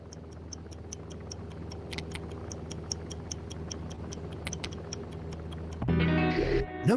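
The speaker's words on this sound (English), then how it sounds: "Oh, the old ticking bomb." A ticking time bomb in a spy puzzle video game sets up a steady, regular clock-like tick repeating close by over a low hum, with a louder mechanical burst near the end.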